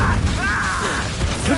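Incendio fire spell cast in the video game Hogwarts Legacy, a loud whooshing burst of magical flame with rising tonal sweeps and rumbling low end filling the whole moment, dense and close.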